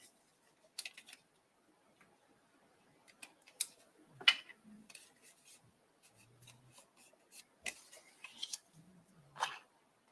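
Scissors trim paper for a handmade mini album, a scattered series of quiet, close snips and paper rustles separated by short silences.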